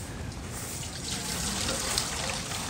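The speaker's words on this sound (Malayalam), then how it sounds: "നമുക്ക് ഉമ്മുകുൽസുവിന് കുറച്ച് കുടിക്കാൻ വെള്ളം വെച്ച് കൊടുക്കാം" Water poured out as drinking water for a pet bearded dragon, a steady, faint trickle that runs evenly for nearly three seconds with no voices over it.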